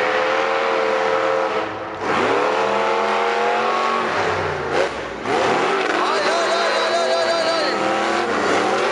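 Race cars at a full-size monster race event scream past at full throttle, their engines rising and falling in pitch, loud and continuous with a brief dip midway, while an excited commentator talks over them.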